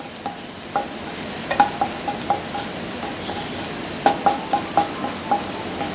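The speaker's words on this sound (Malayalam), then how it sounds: "ഇഞ്ചിയും വെളുത്തുള്ളി ഇട്ട് കൊടുക്കാം" Ginger and garlic fry in a pan for a soya masala, giving a steady close sizzle with repeated stirring clinks and scrapes of a spoon at irregular intervals, no talk.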